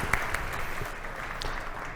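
Brief burst of audience applause at an agroindustry conference in Rosario, a dense, even patter of clapping from a crowd, fairly soft and continuous.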